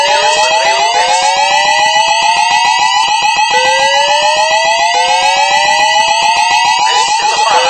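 A mall fire alarm blares continuously and loudly, a rising electronic siren tone repeating in sweeps with no pause across the whole stretch.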